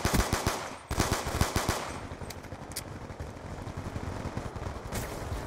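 Gunfire in Black Ops II multiplayer, with rapid automatic bursts of sharp, loud shots, heaviest at the start and then continuing in quicker, slightly quieter rattles.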